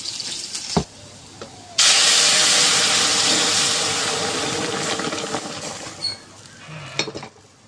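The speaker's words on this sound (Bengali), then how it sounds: "ডালটা এদিকে প্রেশার কুকারে আমি বসিয়ে দিয়েছিলাম" Strong continuous hiss of steam venting from a pressure cooker of dal on a home kitchen stove, bursting in loud after a quiet start and holding steady for several seconds before easing, with a few clicks near the end.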